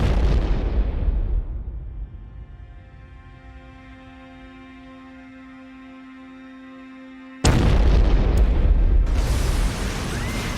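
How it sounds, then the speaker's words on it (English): A bomb blast in Havana, part of a series of bombings targeting luxury hotels: a loud, close booming roar that decays into a long low rumble, followed by a second abrupt burst of noise. "Series of bombings in Havana."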